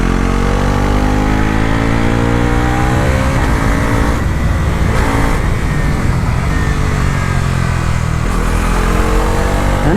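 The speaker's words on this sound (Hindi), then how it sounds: "इतना अग्रेसिव पुल है कि भाई मैं थर्ड गियर पे भी मतलब इतना आगे चला जा रहा हूँ" A 2025 Bajaj Pulsar NS400Z motorcycle accelerating hard in third gear, a loud, continuous engine drone with rising pitch and heavy wind rush, recorded close from the rider's position.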